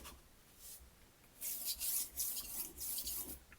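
A knife blade stroked across a finer sharpening stone, giving repeated soft rasping swipes in a steady rhythm after a quiet start, close and moderately loud.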